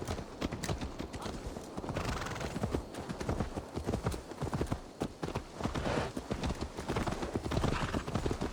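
In Assassin's Creed Valhalla, a horse's hooves clop in a steady, busy rhythm against a dense game soundscape, with a neigh mixed in, fairly loud throughout.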